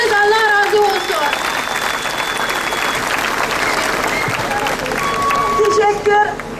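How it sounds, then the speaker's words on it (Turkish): A crowd at an anti-China protest rally held by the Ülkü Ocakları organization breaks into sustained, loud applause, with dense clapping, some whistles and voices mixed in, close to the listener. "Evet, kocaman bir alkış"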